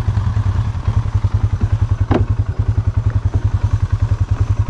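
A 2023 Polaris Sportsman 570 ATV engine thumps steadily and loudly while riding off-road, with a low, rapid pulsing beat and occasional clatter from the terrain. No talking is heard.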